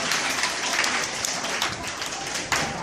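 A crowd claps continuously for children at a school parade, a dense, even wash of applause at moderate loudness throughout.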